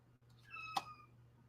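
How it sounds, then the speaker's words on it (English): A hungry cat crying with a single clear meow, faint and somewhat distant in a quiet room, rising and falling in pitch before fading. "Oh, you guys might hear my cat crying."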